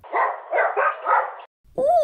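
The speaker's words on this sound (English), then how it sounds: "We have lots of dogs here." Cartoon dogs bark at a dog pound in a quick series of four close yaps. The barks are followed by a short silence and then a single higher, whining call.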